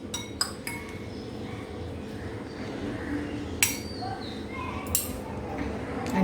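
Raw papaya salad is tossed with its dressing in a bowl, with a few sharp clinks of a utensil against the dish over a soft, continuous stirring rustle.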